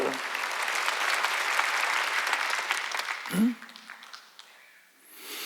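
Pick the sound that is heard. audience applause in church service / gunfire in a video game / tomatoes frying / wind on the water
audience applause in church service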